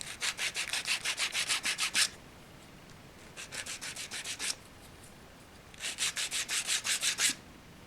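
The edges of a wooden door for a South Shields Station build are cleaned with fast back-and-forth sanding strokes. The strokes come in three close, rhythmic bursts separated by brief pauses, with no talking.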